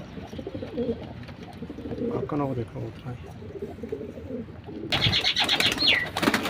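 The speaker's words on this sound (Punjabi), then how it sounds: "ਇਹ ਕਬੂਤਰ ਕੈਸੀ ਆਵਾਜ਼ਾਂ ਕੱਢ ਰਹੇ ਨੇ" Pigeons coo in the second half, a series of repeated calls that rise above a steady outdoor background, while someone talks nearby through the first portion.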